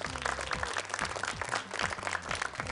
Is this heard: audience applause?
yes